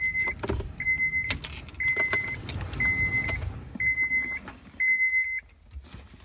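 Ignition key turned in a 2003 Honda Pilot with a supercharged J35 engine: keys jangle and clack near the column while the cabin chime sounds six evenly spaced beeps, with no engine starting.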